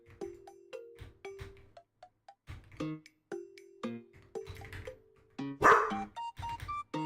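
A pet dog barks in a home streaming room, with short barks scattered among bright, chiming video-game music notes; the barking is fairly close and no one talks.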